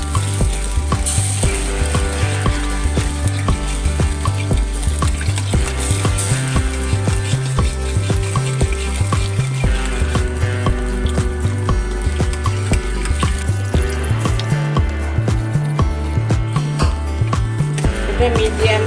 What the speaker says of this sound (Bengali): আর একভাবে নাড়তে থাকতে হবে।